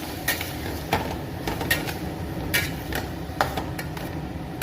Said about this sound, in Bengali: তো এখন আমি এটাকে কঞ্চি দিয়ে ভালো করে নেড়ে দেব